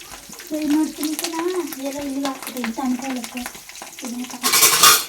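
Onion and Guntur chili sizzling and being stirred in a pan, a steady frying hiss with occasional scrapes, under continuous nearby talk, with a louder burst of sizzle near the end.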